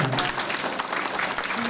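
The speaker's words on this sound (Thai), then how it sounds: "ปรบมือให้บ่าวสาวด้วยครับ" Wedding guests applaud the bride and groom at a reception, a dense steady patter of many hands clapping throughout, fairly close and continuous.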